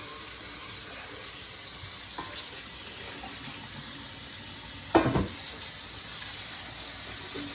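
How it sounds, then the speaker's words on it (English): Tap water runs steadily over drained Rancho Gordo red beans in a sink as they're rinsed, a constant hiss with a brief splashing clatter partway through and no voices. "So I'm just going to drain them. And I'm going to give them a good rinse."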